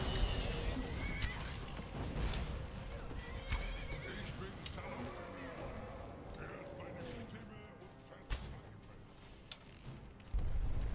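A horse whinnies and hooves clip-clop amid Skyrim game sound effects and booming bursts, with people talking over the action.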